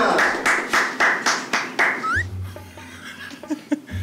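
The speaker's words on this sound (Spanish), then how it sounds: "Yo creo que el aplauso fue muy pronto" A television studio audience claps in a series of evenly spaced, loud bursts, then falls away into scattered laughter and quieter sounds.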